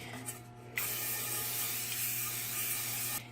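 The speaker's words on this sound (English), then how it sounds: "I am going to grease with some cooking spray" Cooking spray hisses steadily from an aerosol can onto an 8-inch cake pan for about two and a half seconds, a close, continuous spray that cuts off abruptly.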